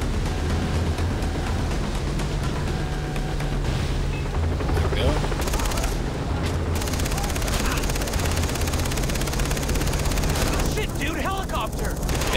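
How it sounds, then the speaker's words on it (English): In the shooter video game Far Cry 3, a helicopter's steady drone runs beneath dense bursts of gunfire and explosions throughout, loud and continuous, with a player shouting over the action. "Yeah, I see the helicopter."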